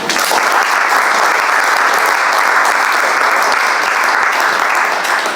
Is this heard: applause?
yes